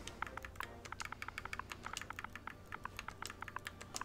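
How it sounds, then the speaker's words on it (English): Quick, light clicking of keys on an Xbox keyboard in an irregular typing rhythm, fairly close but quiet, continuing steadily without any speech. "The Xbox keyboard."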